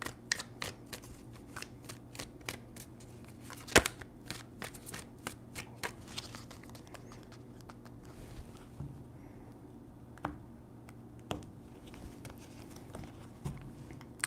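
A deck of tarot cards is shuffled close by in quick riffled bursts, a crisp flurry of papery snaps that thins into sparser taps and pauses, with no voices.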